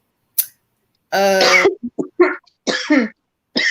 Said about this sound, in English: kind of watch me cough and choke to death